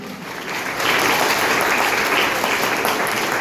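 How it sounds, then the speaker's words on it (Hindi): Loud, dense applause from an audience at a girls' intermediate college event, filling the whole stretch and swelling slightly after the first second, with no voices over it. "जोरदार तालियां।"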